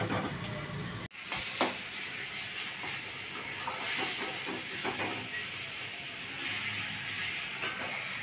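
Jute leaves fry in a pan with plenty of onion and garlic, giving a steady hiss and sizzle throughout with a few sharper crackles and a brief clatter near the start.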